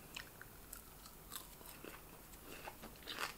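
Crunchy zucchini chips bitten and chewed close to the mic, a series of quiet crisp crunches and soft mastication sounds scattered over about three seconds.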